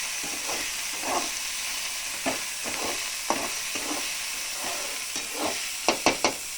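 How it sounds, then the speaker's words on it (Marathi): Onion and tomato sauté in a pan for a pasta dish, a faint even sizzle with occasional soft stirring scrapes and a few sharper clicks of the utensil near the end, close up and without speech. "आता इकडे आपण जो कांदा परतण्यासाठी आणि टोमॅटो जो परतवून घेऊयात."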